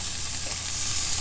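Food sizzling on a new Kamado Akorn Jr grill, a dense steady hiss and crackle, close and constant, with no voices.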